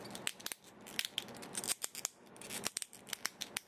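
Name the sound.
Play Arts Kai Batgirl action figure joints clicking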